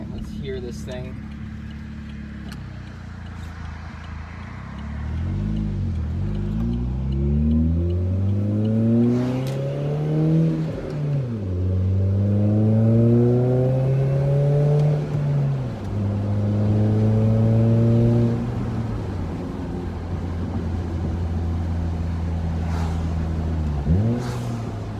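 A Saturn Ion Redline with its exhaust muffler fitted is revved repeatedly up and down, each rise and fall clearly heard close by before the engine drops back to a steady idle, with brief voices around it.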